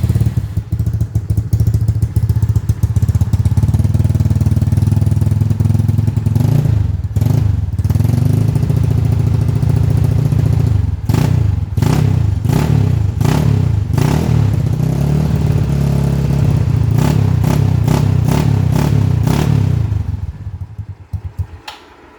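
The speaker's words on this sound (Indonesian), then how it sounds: "Kita cek sound aja kali ya. Untuk bagian area mesin ini starternya nih." A restomodded Yamaha Mio Smile scooter engine starts and idles close by, with a steady low putter broken by several revs and mechanical clatter before it cuts off near the end.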